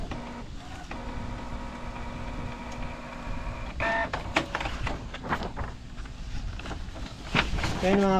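A Canon G1010 inkjet printer runs a nozzle check with a fitted replacement print head, whirring and humming with mechanical clicks and carriage movements while someone talks over it.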